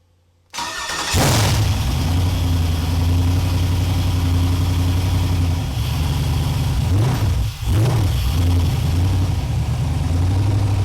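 An LQ9 V8 on an engine stand cranks briefly, fires and catches, then settles into a loud, steady idle with a small dip and recovery. It is close and alone, with no voices.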